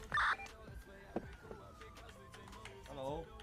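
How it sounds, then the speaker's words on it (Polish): Police sirens wail in a video game during a car chase, one rising tone sliding across the clip amid bursts of game noise, fairly faint and mixed under other effects. "Nas gonią 5 radiowozów"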